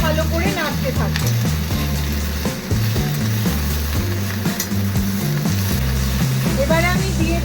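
Beans and onion stalks stir-frying in a pan, a continuous sizzle with the scrape and clatter of stirring, steady throughout and close up.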